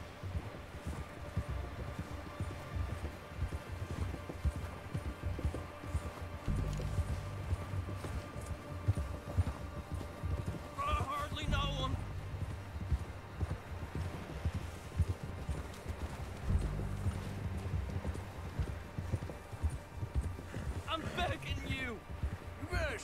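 Horse galloping in the Red Dead Redemption 2 video game, with a steady, loud clip-clop of hooves running throughout, mixed with game music and sounds and with people talking over it.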